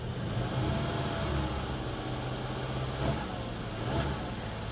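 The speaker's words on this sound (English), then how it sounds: "There it goes, misfiring again. That's a hard miss." A 2018 Mazda 3 engine idles roughly with a hard misfire, a steady low mechanical drone with uneven pulses and a couple of brief surges, heard alone at moderate level.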